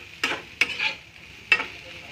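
Lentil and egg curry stirred in a pan, with three distinct scraping strokes of the spoon spaced about a second apart over a light sizzle, close and fairly clear, no talking.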